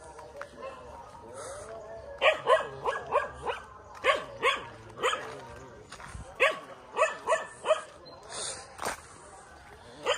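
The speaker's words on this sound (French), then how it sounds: "les chiens, carrément, ils me spottaient de super loin" Several dogs bark repeatedly along a rural mountain road in Bali, the loud yaps coming in uneven bursts from nearby, with some whimpering in between and a voice briefly heard.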